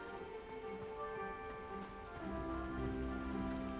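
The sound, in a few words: rain falling in the video game Hogwarts Legacy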